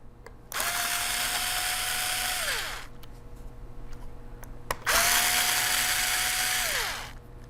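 A cordless screwdriver removing screws from a laptop whirs up to a steady high whine twice, each burst lasting about two seconds and winding down at the end, with quiet pauses between.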